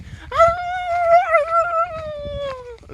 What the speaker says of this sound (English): fucking coyotes all night